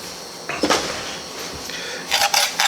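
Sugar and cinnamon are stirred together in a kitchen bowl for cinnamon donuts made from canned biscuits, giving brief scraping, clinking strokes in two short bursts near the start and end, close by, with no talking.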